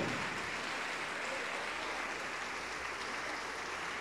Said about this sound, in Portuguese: Vamos aplaudir mais, igreja, vamos aplaudir mais.